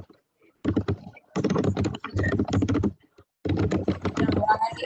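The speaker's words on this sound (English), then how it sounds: "I think you're typing." Keyboard typing during an online caregiver panel on sickle cell thalassemia, heard as several bursts of rapid clicking separated by short pauses, fairly close and clear, with no talk over it.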